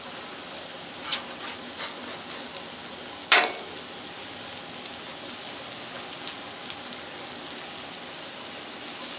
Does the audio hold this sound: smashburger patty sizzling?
yes